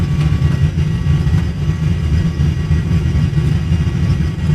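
Boeing 737-NG jet engines on the takeoff roll in a flight simulator game, near full power, a loud, steady low roar and rumble that fills the whole clip without letting up.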